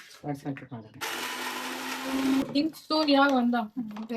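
A mixer grinder whirs loudly for over a second as it grinds batter in a home kitchen, its steady motor drone cutting in between stretches of people talking.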